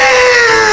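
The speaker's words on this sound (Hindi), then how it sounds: "एक साथ सभी के मुंह से चीखें निकली," A group of people scream together, a single sustained high-pitched wailing cry that holds loud and close before tapering slightly at the end.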